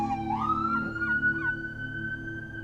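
An ambulance siren in a video game sounds a single wail that rises and then holds a steady high tone over a low droning background, with no talk.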